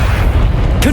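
A fire blast spell explodes in the Hogwarts Legacy video game, a deep booming burst over a dense low rumble, with a brighter crack near the end of the short moment.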